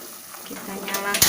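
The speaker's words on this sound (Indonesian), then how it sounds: "menggoreng sambalnya ya." Oil sizzles and crackles as chili paste hits a hot pan, building louder toward the end with a sharp clatter.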